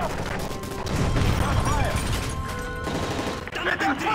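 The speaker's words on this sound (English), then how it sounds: "That's gunfire!" Video-game gunfire aboard a hijacked presidential plane in Call of Duty Modern Warfare 3, a dense rattle of shots and crashes with shouting voices mixed through the chaotic scene.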